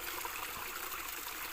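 Water of a small stream runs in an S-shaped bend, a steady trickling, burbling flow heard up close and alone.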